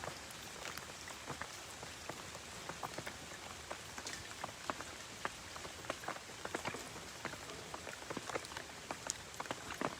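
Steady rain patters on a surface, with dense scattered drops ticking and splashing evenly throughout, no voices.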